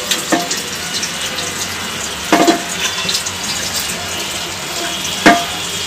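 Rice being washed under running water from a kitchen tap, a steady hissing stream broken by a few louder splashes and sloshes as the grains are swirled, close by.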